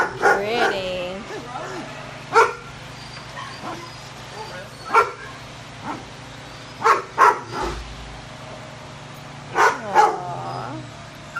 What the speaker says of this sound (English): so what kind of dog is Riley? He is a chocolate lab cross